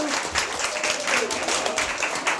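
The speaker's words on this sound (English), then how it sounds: "Can everybody give it one more round of applause to Steve Blunt?" An audience at a children's summer reading kickoff event claps in a dense, steady round of applause that lasts the whole moment.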